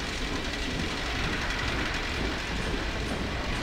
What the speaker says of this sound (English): They use trains because they can't use teleport in the same world.